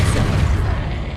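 A short, punchy magical blast of the Depulso force spell from a Harry Potter video game, a single dense whoosh-thump that fades quickly.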